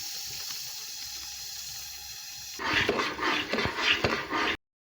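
Water is poured into a pan of cooking besan halwa, producing a loud bubbling hiss and sizzle that starts abruptly after a quieter stretch of low kitchen background and continues for about two seconds before cutting off.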